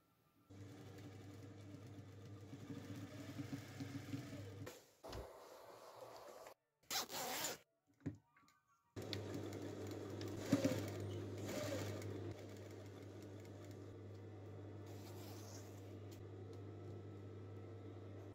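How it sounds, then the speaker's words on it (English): A zip is zipped and then stitched into a skirt seam with a sewing machine; the steady motor hum runs for long stretches, broken by short pauses and brief bursts, with no talking. "I managed to get the zip into the seam without incident"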